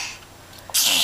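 A toddler gives a single sharp sneeze at the end, a quick breathy burst after a moment of near quiet indoors.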